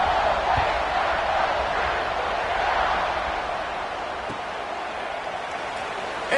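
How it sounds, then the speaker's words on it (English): Stadium crowd at an American football game buzzing after a score, a steady broad roar of many voices with faint scattered applause, fairly loud and continuous throughout. "this crowd is buzzing after that last score"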